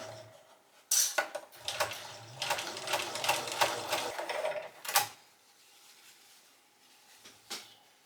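Sewing machine basting a shirt cuff made from an old tablecloth into a circle, running in short bursts of rapid stitching with pauses between, close and fairly soft.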